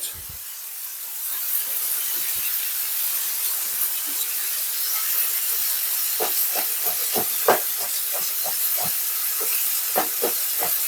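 Food sizzling in a pan stirred with a wooden spoon: a steady, loud frying hiss fills the whole stretch, with a run of soft scraping taps from the spoon in the second half.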